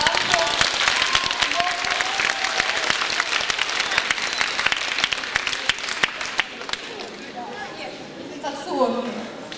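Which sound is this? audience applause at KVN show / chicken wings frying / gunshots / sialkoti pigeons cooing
audience applause at KVN show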